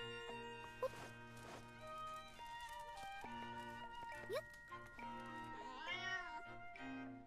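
A cat meows in The Legend of Zelda: Echoes of Wisdom, its calls rising over a steady layer of game music with soft footstep-like taps and other effects.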